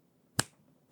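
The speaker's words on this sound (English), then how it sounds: "listen to that finger snap" Two crisp finger snaps from the video game A Hat in Time, close and clean against near silence, spaced about half a second apart.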